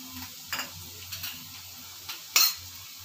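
Green chilies frying in a pan for a ragda pattice dish, a soft continuous sizzle broken by a few light scrapes and clinks of a spoon stirring against the metal, with no speech.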